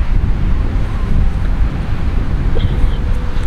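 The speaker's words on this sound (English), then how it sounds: "Sorry, it's a little bit windy" Wind buffets the microphone outdoors in a continuous loud, rumbling roar with no pauses.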